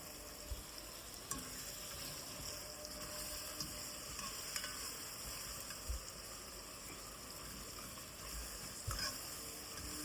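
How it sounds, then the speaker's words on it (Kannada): A masala mixture for mushroom biryani fries in a pressure cooker with a low, steady sizzle and soft stirring scrapes, faint and close, with no talk. "ಈ ಮಿಶ್ರಣನ ಕುಕ್ಕರ್ಗೆ ಹಾಕ್ಕೊಂಡು ಹಸಿ ವಾಸನೆವರೆಗೂ ಹೋಗೋವರೆಗೂ ಫ್ರೈ ಮಾಡ್ಕೊಳ್ಳಿ."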